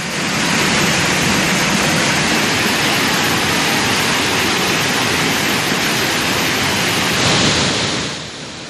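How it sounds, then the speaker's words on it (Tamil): Suruli waterfall swollen after heavy rain, a loud, steady roar of gushing water that stays constant throughout and dips slightly at the very end. "சுருளி அருவியில் தண்ணீர் ஆர்ப்பரித்து கொட்டுகிறது"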